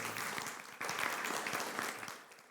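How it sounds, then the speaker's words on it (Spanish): Welcome applause from a church congregation at a Sunday worship service, a full round of clapping that starts strong, dips briefly, then swells again and tapers near the end. "quisiera que les dieran un aplauso de bienvenida a ellos especialmente"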